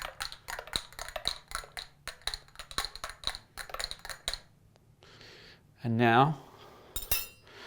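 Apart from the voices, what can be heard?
espresso cups being shuffled and clinking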